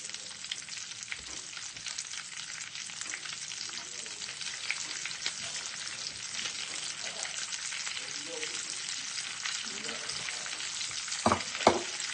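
Fish frying in a pan, a constant loud hissing sizzle with scattered crackles and a few utensil scrapes near the end, alone without talk.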